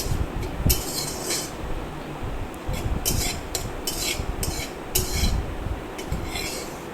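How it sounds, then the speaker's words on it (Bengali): Two spoonfuls of poppy seeds lightly dry-frying in a hot kadhai, with repeated scraping and stirring strokes of a spatula against the metal and a soft rustle of seeds, close and steady, no speech. "আমি 2 চামচ মতন পোস্ত দিয়ে আমি এটা হালকা ভেজে আনবো।"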